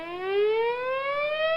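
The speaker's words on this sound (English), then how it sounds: "Put the siren on." A wailing siren sound effect on a radio comedy show, a single rising tone that climbs steadily and holds loud and clear, with no talk over it.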